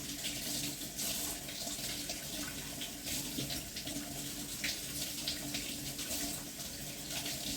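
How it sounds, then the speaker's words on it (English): Tap water runs steadily into a sink while meat and turkey necks are washed, a continuous broadband splash with small shifts as the stream hits the food, fairly close and without speech. "I like to wash my meat real good."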